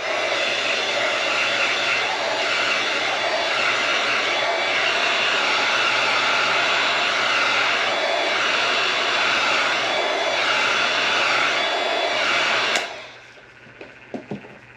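Heat gun blowing hot air steadily onto a red, white and blue Milky Way tumbler, a loud continuous roaring whoosh that runs for about thirteen seconds and then cuts off, leaving a few faint handling clicks.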